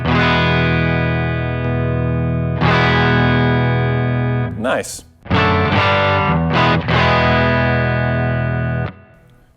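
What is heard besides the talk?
Fuel Injector drive pedal in natural mode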